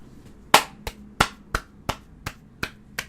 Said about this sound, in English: Had to clap for that